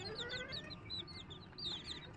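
Native-breed chicks peep in a series of faint, high, repeated chirps over low background noise.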